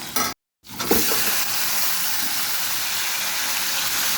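Onion hits a pan of frying dried fish and garlic, raising a steady loud sizzle after a brief cut to silence near the start, with a little stirring scrape along the way.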